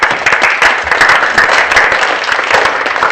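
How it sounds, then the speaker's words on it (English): A loud, dense round of audience applause for staff members at the Schneider Electric low tech innovation prize giving ceremony, sustained throughout with many overlapping claps. "I would like us to say congratulations by clapping hands to our staff members for this."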